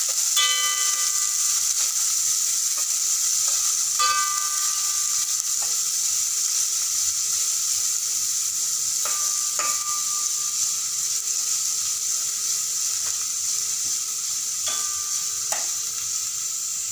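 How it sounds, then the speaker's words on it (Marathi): Two finely chopped onions frying with cumin in a pan, a constant bright sizzle with intermittent spoon clinks and scrapes against the pan as they are stirred, close up with no talking. "हे बघा, हा 2 कांदे मी बारीक करून घेतलेले आहे। मी कांद्याचं परतून घेते।"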